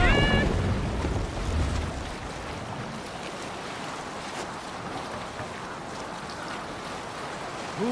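A sailing ship moving across the open sea in Assassin's Creed Valhalla, with steady rushing wind and wave wash throughout, a brief louder burst at the start and faint game sounds above.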